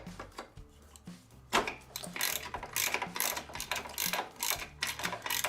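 Hand ratchet clicking rapidly while removing bolts from a Vulcan 750 motorcycle, close up and steady, with repeated strokes of dense ratcheting clicks and no talk.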